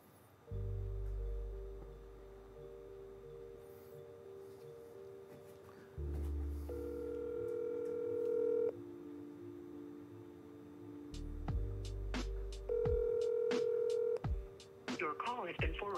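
A phone call is placed, with steady ringback tones and electronic call-progress beeps in repeated bursts, followed by a brief chime near the end, heard fairly faintly with a speaking voice in between.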